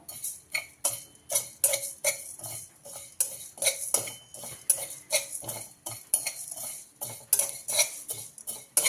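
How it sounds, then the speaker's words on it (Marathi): Cumin and coriander seeds dry-roast in a pan while a utensil scrapes and taps against the metal in a quick, steady rhythm of distinct clinks, close and dry with no sizzle. "एक चमच मी जिरे आणि एक चमच मी धने घेतलेले आहे ते सर्वप्रथम आपण भाजून घेऊया"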